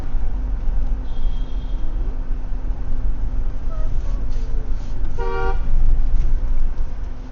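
A single short car horn honk sounds over steady engine and road noise, with fainter tones earlier.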